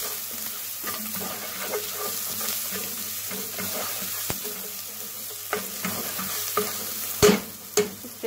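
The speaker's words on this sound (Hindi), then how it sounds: "अब हम इसमें ऐड करेंगे लहसुन और अदरक की पेस्ट, ऐड कर दें। इसे भी अच्छी तरह से भून लें।" Onions sizzle in a pan with garlic and ginger paste while a utensil stirs, scraping and clinking against the pan in sharp knocks near the end over a steady low fry.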